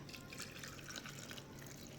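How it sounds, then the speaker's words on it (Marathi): Hot water runs and trickles steadily into a container, a soft continuous pour with faint dripping, close by and without any talk. "थोडं गरम पाणी टाकू आपण"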